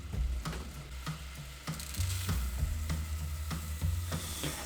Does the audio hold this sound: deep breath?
no